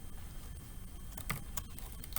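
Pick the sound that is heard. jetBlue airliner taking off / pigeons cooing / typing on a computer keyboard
typing on a computer keyboard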